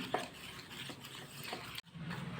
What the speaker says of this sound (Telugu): దీంట్లోకి రెండు టేబుల్ స్పూన్ల పాలమిన మీగడండి దాన్ని వేసేసుకుందాము మొత్తం కలిసేలా కలుపుకుందాము